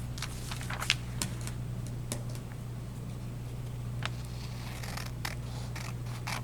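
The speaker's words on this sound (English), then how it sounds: "Okay, I'm gonna cut this in half." Scissors cut a sheet of paper in half with a series of crisp, irregular snips and clicks over a low steady background hum.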